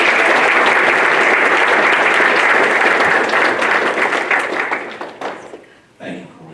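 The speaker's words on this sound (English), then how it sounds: "please give him a round of applause" Loud, close banquet-hall applause from a Rotary audience fills the room steadily for about five seconds, then thins out and tails off, with a brief burst of clapping near the end.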